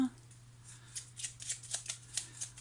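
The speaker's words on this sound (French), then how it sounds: "je vais mettre les cartes ici" Tarot cards are laid out on a table, a run of soft, close slaps and slides of card on card in a quick irregular rhythm over a low steady hum.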